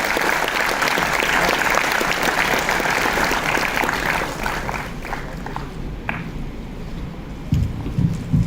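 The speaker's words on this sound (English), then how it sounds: "Big round of applause, sir." Conference audience applauding a keynote speaker at an IEEE international conference, dense steady clapping filling the hall for several seconds before thinning out, with a few louder claps near the end.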